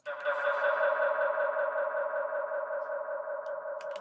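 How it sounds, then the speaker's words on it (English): A sustained drum and bass tone smeared with heavy echo, made in Ableton 11, rings on for several seconds, fading gradually with a few faint clicks near the end. "So let's put on a load of echo."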